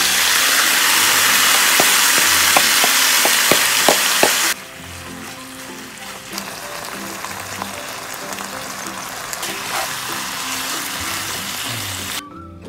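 Ginger pork with soft onion and seasoning stir-frying in a pan for Japanese shougayaki, a loud steady sizzle with a few sharp clicks, then a quieter, lower sizzle that continues alone to the end.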